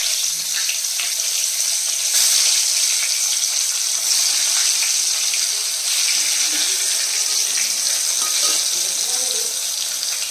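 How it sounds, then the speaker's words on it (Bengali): Brinjal slices fry in a hot pan with a steady, dense sizzling hiss that stays fairly loud and even throughout, with no talking. "এবার বেগুনটা ভেজে নিই।"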